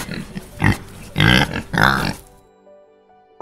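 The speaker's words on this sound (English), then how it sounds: "Grunted the pig." A pig grunts in three or four short, loud, throaty bursts at an uneven rhythm, close up, then falls quiet apart from soft background music.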